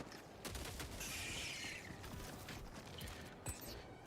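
Orbital barrage strikes in the video game Helldivers 2 rumble as a dense, continuous roar of distant blasts with scattered sharper cracks, one sudden boom near the end.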